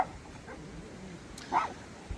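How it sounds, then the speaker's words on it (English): Dogs bark in the distance inside a home, giving a faint yip at the start and a slightly louder bark near the end over a quiet room background. "Excuse the dogs."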